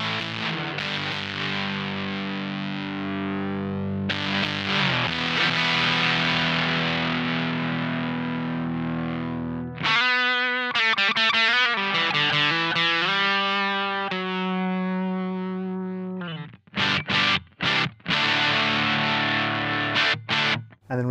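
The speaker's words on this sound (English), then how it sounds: "Next up we have the Supro drive, and it sounds a little like this." An electric guitar runs through a Supro Drive overdrive pedal with the volume turned down, giving a slightly fuzzy, distorted tone: long sustained chords at first, then choppier strummed riffs and stabs with short breaks near the end.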